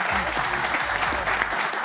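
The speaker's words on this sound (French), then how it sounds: "Vous pouvez l'applaudir." Studio audience applauding a guest on a French football talk show set, a steady dense wash of clapping close by with voices talking over it throughout.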